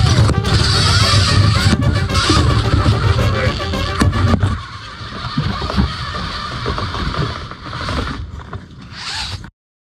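An RC toy car is driven by signals from a function generator, giving a loud, buzzing, whirring motor and mechanism noise that runs for several seconds, then thins into sputtering bursts before cutting off.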